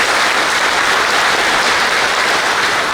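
Large crowd at a public Hindu rally in Mangaluru bursts into steady, dense applause, loud and close throughout with no pauses or talk.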